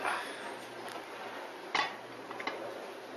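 Collard greens being stirred in a cooking pot, with a few light clinks of a utensil against the pot over a steady low background.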